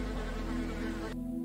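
Dense, steady buzzing of a swarm of flies, close and continuous for the whole moment, cutting off abruptly near the end.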